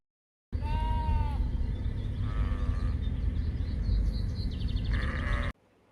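Sheep bleating close by, several wavering calls overlapping one after another over a constant rumbling background, ending abruptly.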